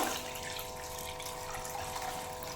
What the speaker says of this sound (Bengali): এবার আমি এখানে গরম জল দেবো